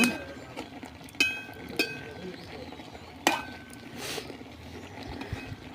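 Bottle gourd leaves being stirred in a cooking pot, with several sharp metallic clinks of a utensil against the pot spaced over a low, steady background rustle.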